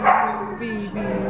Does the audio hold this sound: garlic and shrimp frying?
no